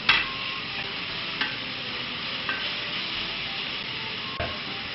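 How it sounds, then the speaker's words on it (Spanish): Onion mixed with garlic fries in warm oil, giving a steady close sizzle broken by a few soft clicks of a utensil against the pan. No one speaks. "ya añado la cebolla, que ya está mezclada con el ajo"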